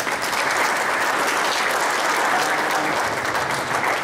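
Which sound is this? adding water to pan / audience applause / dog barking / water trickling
audience applause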